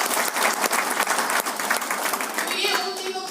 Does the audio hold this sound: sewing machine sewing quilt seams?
no